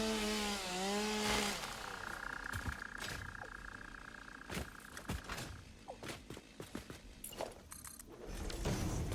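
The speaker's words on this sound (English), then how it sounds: "I do have my chainsaw on me. Let me get the chainsaw." Chainsaw cutting a tree in a factory-building video game, with a rising whirr at the start, then a buzzing drone broken by repeated chopping thunks and clatter of wood, fairly loud and close, no talking.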